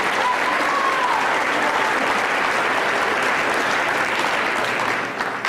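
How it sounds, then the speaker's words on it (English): An audience at a junior high awards night and eighth-grade commencement gives a student a warm round of applause. The clapping is thick and steady throughout, and a brief faint whistle rises early on. "so please give her a round of applause"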